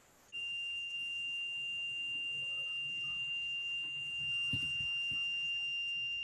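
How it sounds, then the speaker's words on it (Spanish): A multimeter set to continuity gives a steady high-pitched beep once its two probes are touched together, sounding as one sustained tone over a faint background hiss with no talking. "aquí voy a medir la continuidad. Entonces vamos a ver si se logra escuchar"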